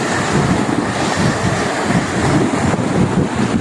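Loud, continuous surf crashing and rushing on the shore at Anilaw, Batangas, over a constant wind roar, close and heavy, with no voices heard.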